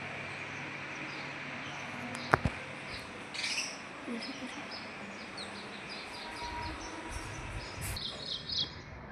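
Birds chirp outside a house in the early morning: scattered light tweets and a few sharper calls, fairly faint and distant over steady background ambience, with no one talking.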